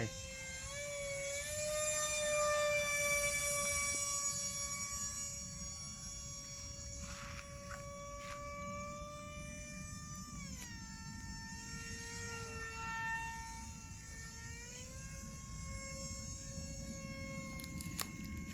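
A small radio-controlled VolantexRC F22 Raptor model jet flies past outdoors, its motor a high, steady whine that bends in pitch as it passes and returns over a windy background.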